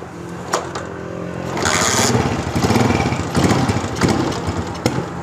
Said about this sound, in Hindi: स्टार्ट करके अब इसको एक्सीलेटर पूरा देते हैं कि पूरा कितनी एक्सीलेटर देता है।